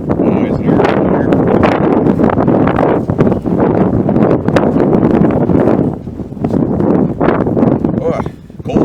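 Strong, steady wind buffets the microphone outdoors during a cold, windy rifle-testing session, a loud rumbling roar with gusty surges throughout and a voice speaking beneath it.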